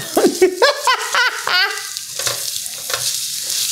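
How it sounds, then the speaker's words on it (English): Onions sizzle and crackle in a hot Visions glass pan, a steady frying hiss under bursts of excited voices and laughter. "So our onions are starting to sizzle."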